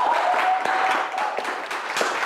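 Steady, dense audience applause at a quiz show contest, many hands clapping continuously at close range with a faint tone and murmur underneath.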